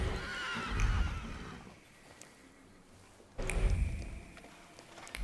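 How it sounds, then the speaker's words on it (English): A loud, drawn-out horse whinny from a video game, then a pause, then a second whinny, both close and shrill against faint background noise. "Sounded like a demon horse for a second there."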